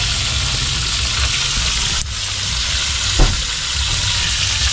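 Tilapia frying in oil in a pan over a wood fire, giving a steady close sizzle and crackle that runs throughout, with one soft knock partway through.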